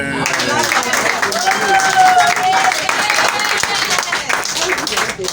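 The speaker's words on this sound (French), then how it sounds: "Applaudissez" A church congregation claps after a prophet's testimony session, a loud, busy mix of hands and crowd noise with raised voices and a brief tonal whoop rising through it.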